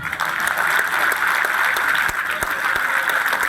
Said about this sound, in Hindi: नए लोगों के लिए जरा तालियां बजा दो